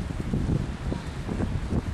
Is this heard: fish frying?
no